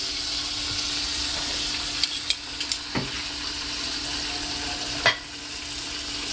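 Pork chops cook under a lid in a covered pan, giving a steady muffled sizzle with a few sharp clinks and taps near the middle and another knock toward the end.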